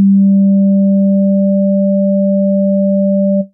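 A steady synth tone from the Newfangled Audio Generate plugin holds a single low pitch with a faint higher overtone, smooth and unbroken for about three and a half seconds before cutting off abruptly.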